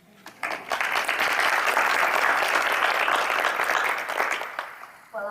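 An audience at a Disneyland Resort ambassador program anniversary event bursts into loud, sustained clapping that swells quickly, holds for several seconds, then tapers off before a voice resumes.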